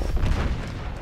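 A deep, rumbling boom from a grenade explosion in the action video game Uncharted 2: Among Thieves, loud and close, filling the whole short moment with low-end thunder.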